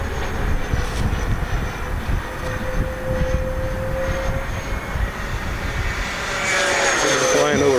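A Freewing twin 64mm EDF F-14 Tomcat RC jet cruises at half throttle, giving a steady loud ducted-fan whine and rushing roar throughout, swelling nearer toward the end as the model passes.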